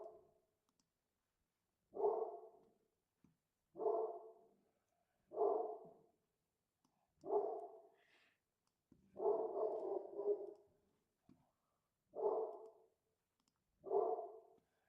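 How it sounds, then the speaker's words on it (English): A dog barks in repeated single woofs about every two seconds, fairly close, with a brief cluster of faster barks midway, in an otherwise quiet indoor room. "who you barking at?"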